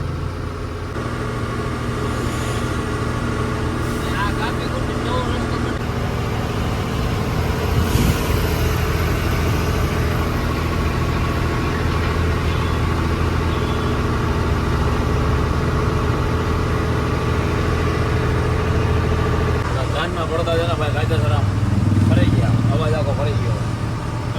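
A car engine labours up a steep mountain ghat road in Beed, Maharashtra, giving a continuous droning hum with a low rumble throughout, and people talk over it.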